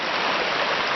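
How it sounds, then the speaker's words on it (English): A snowy creek rushing nearby, a loud continuous hiss of flowing water with no pauses over a short stretch. "I'm at the creek"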